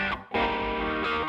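A heavily distorted electric guitar rings out in a thick, buzzing sustained chord, briefly dipping before swelling back loud.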